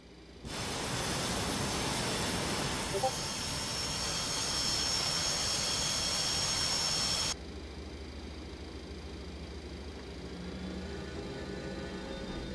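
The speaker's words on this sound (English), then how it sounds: "All the engines are working." A Boeing 727-200 airliner in Microsoft Flight Simulator 2024 has its jet engines running with a steady, broad roar and a high whine, which drops abruptly to a quieter, lower hum partway through.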